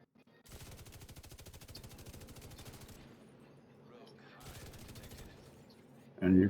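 LMG machine gun fire in The Division 2, two long sustained bursts of rapid rhythmic shots separated by a pause, fairly faint, ending with a sudden louder sound.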